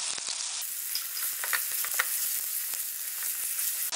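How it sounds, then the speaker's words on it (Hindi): Onion frying with garlic and ginger in a pan, a dense steady sizzle with scattered crackles and pops and a brief stirring scrape, close and alone. "अब इसमें प्याज डाल के इसको भी ट्रांसपेरेंट होने तक पकाएंगे"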